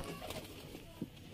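Sialkoti choohay pigeons, slate-grey Hansraj-line birds, cooing softly with a few brief low coos, the clearest one near the end, faint against a steady background hiss.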